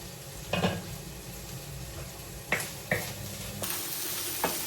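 Meat and chayote stir-fry in a pan, with tomatoes and pepper, a steady sizzle running throughout, punctuated by several sharp scrapes and clacks of a utensil stirring against the pan.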